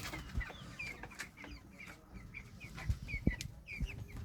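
Thirteen-day-old broiler chickens on a poultry farm, some with colds. Soft repeated clucks and chirps come from a nearby flock, with occasional wing flutters and small knocks.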